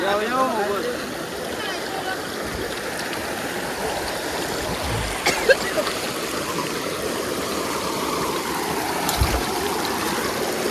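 Flowing stream water rushes steadily while people wade through it on a forest path toward a Mahakali temple as light rain begins, with voices talking over the constant watery wash.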